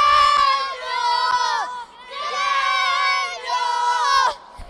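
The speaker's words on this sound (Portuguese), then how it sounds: "a galerinha aqui tá torcendo pro Grêmio" A crowd of young children at an interclub football match in Anitápolis shouts and chants for Grêmio, loud and close, in three sustained bursts of overlapping high voices.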